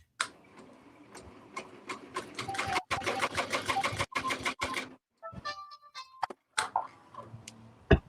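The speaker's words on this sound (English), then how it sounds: "if you heard that little song, that is the machine telling me it's done with its last stitch" A Ricoma Marquee 2001 embroidery machine finishes its last stitch, with rapid rhythmic stitching clatter followed by a short electronic tune of beeping tones and a few clicks.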